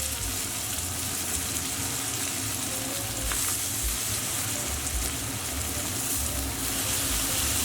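Chicken piccata cutlets fry in a pan with a steady, dense sizzle that holds unbroken and fairly loud from start to finish, with no voices over it.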